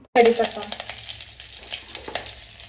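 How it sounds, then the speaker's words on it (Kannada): Mustard seeds hit hot homemade ghee and burst into a loud, sudden sizzle that settles into steady crackling and popping, close up, with no talking. "ಸ್ವಲ್ಪ ಸಾಸಿವೆ ಹಾಕೇನಿ."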